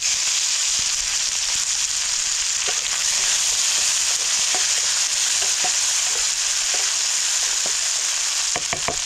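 Mustard seeds, cumin, onion and tomato frying in hot oil, giving a steady dense sizzle with scattered small pops and crackles throughout, close and fairly loud with no talking.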